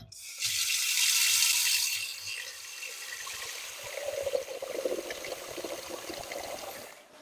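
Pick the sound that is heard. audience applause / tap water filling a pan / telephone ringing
tap water filling a pan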